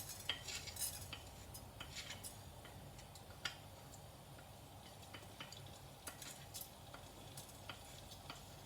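Mustard seeds splutter in hot oil in a pan, giving quiet scattered ticks and sharp pops over a low steady sizzle, close and alone.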